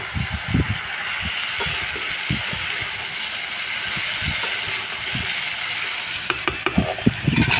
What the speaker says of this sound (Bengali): আলুটাকে আরেকবার নাড়াচাড়া করে দেবো।